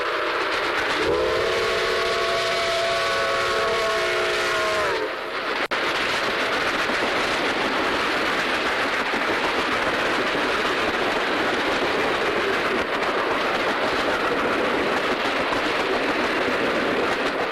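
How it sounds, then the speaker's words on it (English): A Chessie System steam locomotive pulling the Safety Express out of a tunnel at Henryton on the Old Main Line sounds a long, loud, steady whistle, then a continuous roar of the train rolling past fills the rest. "we catch the Safety Express as it exits the tunnel at Henryton"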